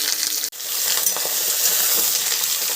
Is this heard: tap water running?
no